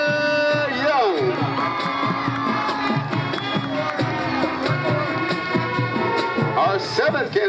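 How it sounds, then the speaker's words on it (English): Dense crowd noise at a high school football game during homecoming candidate introductions, with steady cheering and whoops, a sustained loud roar throughout with band-like tones underneath. "A round of applause for Miss Amber Young."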